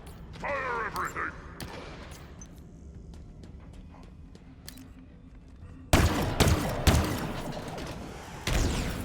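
Gunfire from the Halo Infinite video game, with a burst of loud shots near the end after quieter mechanical game sounds and faint voice-like tones.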